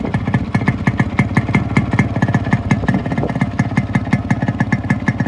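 Kick-started Yamaha RX 100 motorcycle, a fully modified two-stroke, running with a loud, fast, steady popping exhaust beat close by, sustained without pause throughout.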